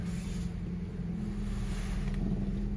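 A Honda Civic pulls away after a fresh clutch install, its engine a steady low drone with road and wind rumble throughout, fairly close and continuous with no talking.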